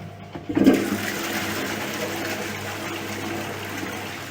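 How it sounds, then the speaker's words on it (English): A hotel room toilet in Austria or Italy flushes with a sudden rushing surge of water that settles into a steady swirl and trickle as the bowl refills, close and fairly loud. "First time I've ever flushed a toilet."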